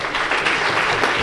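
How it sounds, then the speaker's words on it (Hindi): Dense, steady clapping from a large audience fills a short stretch at a Bait Baazi poetry contest at an All India Educational Conference in Aurangabad, honouring a teacher who prepared the students. "खान रिजवाना के लिए जोरदार तालियां"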